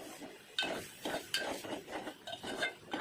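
A spoon stirs and scrapes spice masala for a bitter gourd (karela) dish in a pan with a little oil, making a steady run of close, rhythmic strokes with light clinks and no talk.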